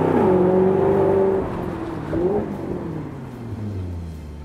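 A 2018 Maserati GranCabrio, a rear-wheel-drive convertible, revving loudly with a high engine whine that drops, then another short rev, then settles into a deep falling rumble as it pulls away.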